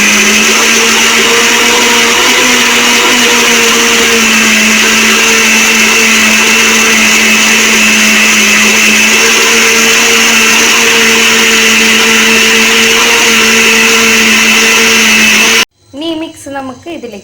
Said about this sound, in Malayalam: ഇത് ഒന്നിച്ചിട്ട് നമുക്ക് മിക്സിയിൽ അടിച്ചെടുക്കാം